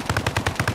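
Rapid automatic gunfire in the military shooter Arma Reforger, a short burst of about seven evenly spaced loud shots at close range, with no voices.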